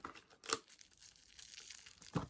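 Plastic packaging on an eyebrow product refill is torn open, giving a sharp rip and a couple of faint crinkles close to the microphone, with quiet gaps between them.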